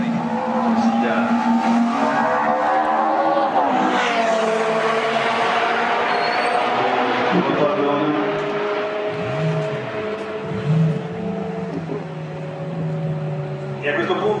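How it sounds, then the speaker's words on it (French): Ferrari race cars roll into the pits at the Paul Ricard circuit, engine notes rising and falling through gear changes, loud and close, with a voice talking over them. "Les voitures de l'accueil rentrent au stand."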